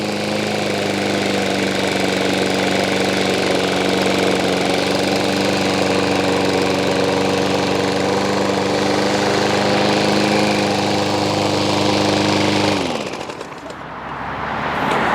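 A Troy-Bilt lawn mower engine runs at a steady loud drone close by, then slows and cuts off near the end, leaving faint ambient sound.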